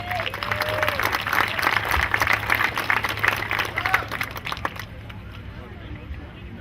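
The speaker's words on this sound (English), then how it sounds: "Let's give him a round of applause." Crowd applause at an outdoor opening ceremony, loud continuous clapping with some cheering voices that fades out after about five seconds, leaving quiet background.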